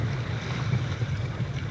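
A boat under way at sea near the Île du Taureau, with a steady low engine rumble mixed with wind and water rush, constant and fairly loud throughout.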